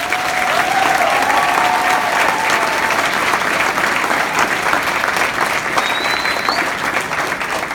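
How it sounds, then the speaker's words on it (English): Parents' concert audience applauding the kids, a loud steady wash of clapping from a large crowd that holds for the whole stretch. "So ladies and gentlemen, round of applause for the kids."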